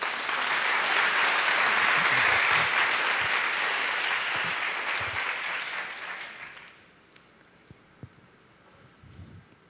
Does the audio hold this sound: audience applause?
yes